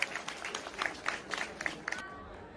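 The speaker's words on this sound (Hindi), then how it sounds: "तालियां जोरदार तालियां" Audience clapping at a comedy show, a burst of brisk, fairly loud handclaps with a lively rhythm that cuts off abruptly.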